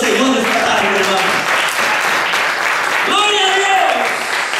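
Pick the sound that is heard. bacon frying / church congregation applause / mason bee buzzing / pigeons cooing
church congregation applause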